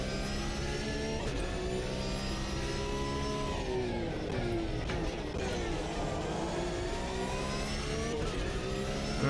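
A race car engine on an out lap at Laguna Seca in a VR sim racing game drones steadily at close range, its pitch shifting up and down with throttle and gear changes throughout.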